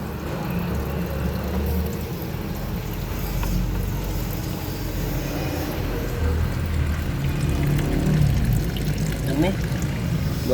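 Coolant drains and trickles from a Honda City radiator during a tune-up, a steady pouring stream lasting throughout, with someone talking over the flow.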